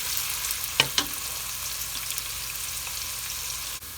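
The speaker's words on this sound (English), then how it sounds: "I will continue cooking my onion until it's translucent" Onion frying in a pan for githeri until it turns translucent: a soft, steady sizzle with a couple of brief sharper pops early on, fairly quiet and close, with no talking.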